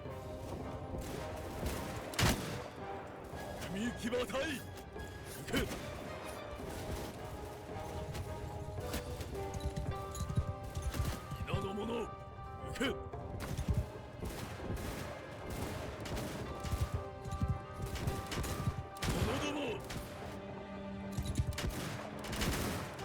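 Massed gunners fire in a Shokuho battle, rolling volleys of musket and gun shots cracking out in dense, overlapping bursts without a pause.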